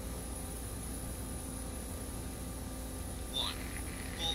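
Chinook helicopter in Arma II, a steady low droning engine hum running throughout at moderate level, with a couple of short higher sounds near the end and voices speaking.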